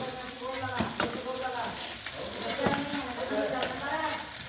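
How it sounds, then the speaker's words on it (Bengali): A fish head fries in hot oil in a pan, giving a continuous close sizzle. Several sharp scrapes and clatters sound as it is turned and lifted out. "আগে মাছের মুড়াটাকে তেলে ভেজে নিয়েছে, তারপরে দেখুন এবার তুলে নিচ্ছে"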